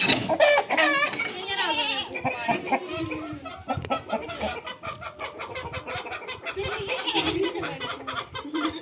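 Goats bleat in several wavering calls on a small farm where red hens and roosters are kept, with clucking and other farmyard noise close by throughout.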